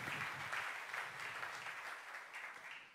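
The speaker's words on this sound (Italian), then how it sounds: "la signora applaude" A woman claps at a Lega political gathering in Pordenone, Friuli Venezia Giulia, a fairly faint, steady patter of applause lasting about three seconds with no voices.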